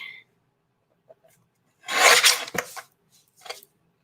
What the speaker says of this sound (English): Okay, so I'm gonna trim this down now a little bit.